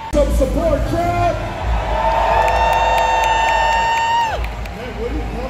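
At a strongman competition, a large crowd cheers and whoops loudly and steadily in support of a lift, with sustained shouted voices rising through the middle before easing off.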